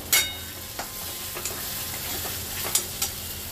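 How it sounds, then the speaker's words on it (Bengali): Frying masala for potato curry (aloo dum), thick with oil and poppy seed paste, stirred in a pan: a soft continuous sizzle punctuated by several sharp spoon scrapes and taps. "ভালো করে নেড়ে চেড়ে নেব।"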